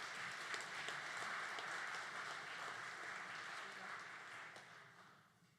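Audience applause at an FFA banquet, a sustained wash of many hands clapping in a large room, fairly distant and gradually thinning toward the end.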